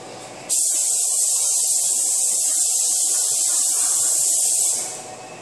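Silver spray paint hisses steadily from an aerosol can onto the radiator support of a 2009 Honda Civic under rebuild, a close continuous spray lasting about four seconds before tapering off.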